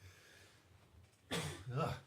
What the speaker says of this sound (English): I think this ramen's making me cough.